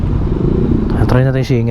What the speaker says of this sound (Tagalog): galit na yung makina niya